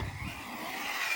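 Arrma Mojave 6S RC car taking a tight turn on compressed front suspension, a short near whir of motor and tyre scrub with no voices.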